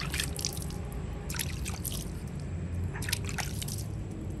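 A monkey splashes into water and swims, making faint scattered splashes and drips in a few short clusters over a soft steady background.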